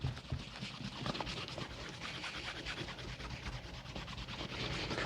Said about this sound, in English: Again, fine misting, and again all we're doing is smoothing it out